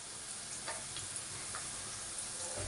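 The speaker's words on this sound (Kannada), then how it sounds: "ಇವಾಗ ನಾನು ದಪ್ಪ ಮೆಣಸಿನ್ಕಾಯಿ ಹಾಕೋತಾ ಇದ್ದೀನಿ," Capsicum and garlic fry in a hot pan for paneer masala curry, a steady dense sizzle with a few faint ticks of the spatula, close and continuous without any talk.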